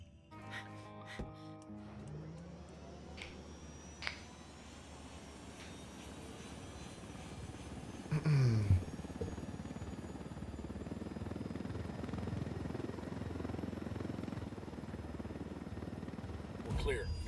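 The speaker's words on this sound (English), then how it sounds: "Into the chopper." A helicopter in the video game Ghost Recon: Wildlands, with a rotor and engine drone that swells after a few mechanical clicks and a brief sharp burst, then holds steady at a moderate level under a quiet spoken line.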